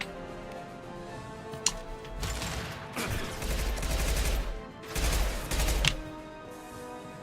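Bursts of gunfire from the player's weapon in Mass Effect 2, a few sustained rapid volleys of close shots separated by brief pauses.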